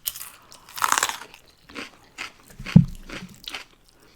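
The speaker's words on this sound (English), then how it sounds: "I like crunchy fries." Crunching bites into Five Guys Cajun-seasoned fries, a few crisp, close crunches in bursts with short pauses between, loud and dry without talk over them.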